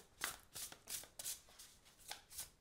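Oracle cards shuffled and riffled by hand from a deck, a series of quick crisp card flicks in an uneven rhythm, close and quiet with no talking.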